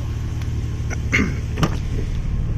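A low, steady engine hum of a 1989 Nissan Maxima idles throughout, with a few faint clicks and taps over the top.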